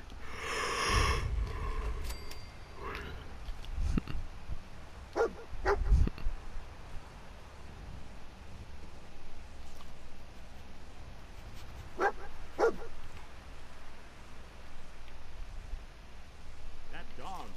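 A dog in the Fallout 4 video game gives a few scattered barks and sniffs over a low, steady game ambience, with a loud burst near the start and fainter yips later; a voice talks quietly at times.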